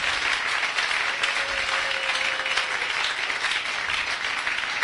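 Congregation applauding in a church service, a steady dense wash of clapping that holds evenly from start to finish with no talk on top.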